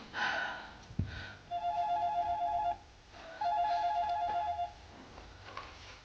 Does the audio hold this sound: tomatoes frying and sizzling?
no